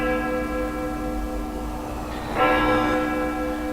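A church bell tolls the hour, with a single resonant strike ringing out about midway and decaying slowly over a steady low background hum.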